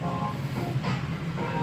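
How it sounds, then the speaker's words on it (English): A Las Vegas tram pulls away with a low, steady rumble and faint whirring hiss from nearby, a continuous mechanical drone with no clear voices. "The tram is now departing."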